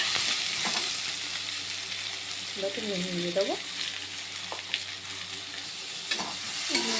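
Chopped vegetables sizzle steadily in a hot pan while being stirred, with scraping clatter from the spoon throughout; a voice speaks briefly partway through.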